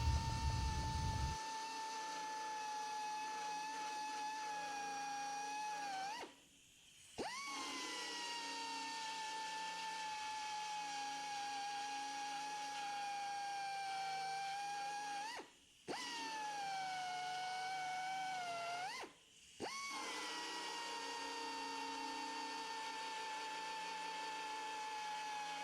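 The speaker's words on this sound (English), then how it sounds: "And again, I'm just grinding all of these down." Power grinder cutting down spot welds on a truck bedside panel, a steady high whine running for long stretches, broken by three short pauses where the tool spins down and revs back up.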